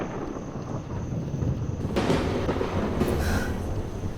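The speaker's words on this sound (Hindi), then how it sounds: "लगता है आज तूफान आने वाला है।" Thunder from an approaching storm rolls in as a low, continuous rumble, swelling louder about halfway through and lingering with a broad, dull roar.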